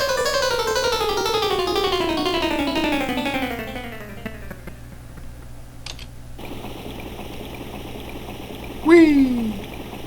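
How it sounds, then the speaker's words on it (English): A swirling whirlpool effect from Space Quest 2 on the Apple IIgs, a loud chain of repeating tones that slide steadily downward for several seconds, then fade into a steady watery hiss, with a brief voice exclamation near the end. "the sound of the whirlpool. If you go into the whirlpool, it plays kind of a, an appropriate sound effect"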